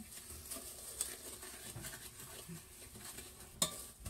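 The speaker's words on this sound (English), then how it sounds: "So you just want to stir that up until it's mixed well." Softened butter and sugar stirred together in a bowl for a peach cobbler crisp, with soft scraping and occasional sharp clinks of a utensil against the bowl, quiet and close, no talking.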